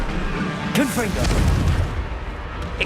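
A Confringo blasting spell in Hogwarts Legacy, a video game, erupts in a loud explosive burst with rumbling debris and swirling magical effects, amid game voices and background score.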